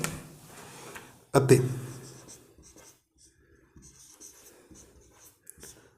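Pen or chalk writing out a line of a Class 10 quadratic equations maths solution, heard as a sharp scratch followed by faint intermittent strokes, close and quiet, with a teacher talking at the start.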